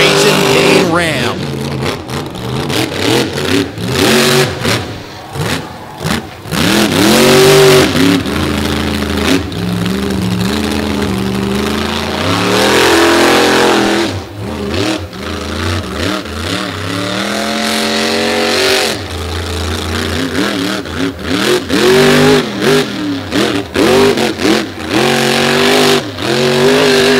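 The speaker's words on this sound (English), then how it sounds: "Pushing that truck hard, that big heartbeat horsepower in the back." A monster truck at a beach show revving hard, with loud, surging engine roars rising and falling in repeated pulls, under an announcer's continuous commentary.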